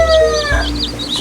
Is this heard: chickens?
yes